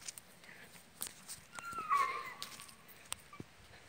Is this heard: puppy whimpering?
yes